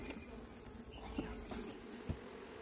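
Bees buzz densely around a hive being worked with a smoker, a constant close drone with occasional louder passes and a few bumps.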